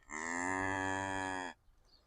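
A single cow gives one long, loud, close moo lasting over a second, followed by quiet.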